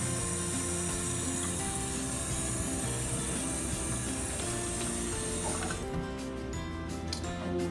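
Water is poured into a chocolate protein shake: a close, continuous splashing rush that holds steady for several seconds, with no voices.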